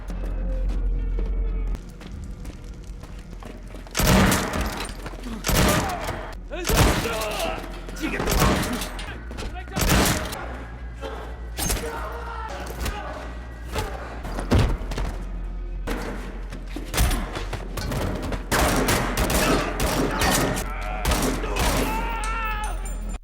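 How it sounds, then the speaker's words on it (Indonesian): Rapid bursts of gunfire crack repeatedly over dramatic film audio, some shots loud and sharp, others in quick volleys, with brief pauses between. "Saat itu, Brian sempat terkena tembakan."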